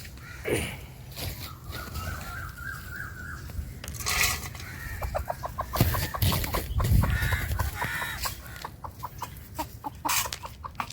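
Several adult hens cluck and chatter nearby while being fed grass, with repeated pecking and rustling sounds throughout.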